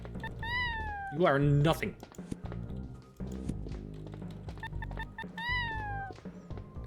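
A cat gives several drawn-out meows, one near the start, a shriller cluster soon after, and another later on, while someone talks over and between them.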